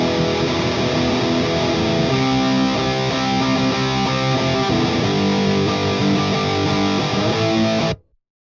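Chorus of a song on MIDI drums with a straight beat, open cymbals washing, hard-hitting kicks and snares, under a dense loud distorted band mix that cuts off abruptly.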